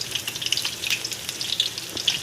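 Potatoes frying in a pan, producing a faint, crackling sizzle with irregular small pops and no voices.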